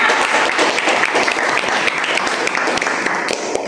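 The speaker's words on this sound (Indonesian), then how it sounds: "Beri tepuk tangan untuk kita semua." Steady applause from a gathering of primary school teachers at an elementary school event, dense and continuous clapping throughout with no speech over it.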